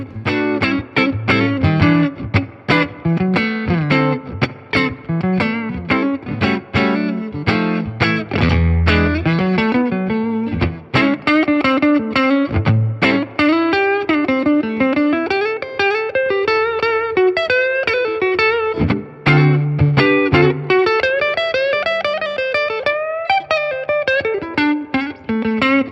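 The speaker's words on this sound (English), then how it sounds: "we're checking out the Fender Tone Master Deluxe Reverb." An electric guitar plays through a Fender Tone Master Deluxe Reverb amplifier, continuous melodic lines and chords with overdriven, effects-laden tone and reverb, loud and close with no talking.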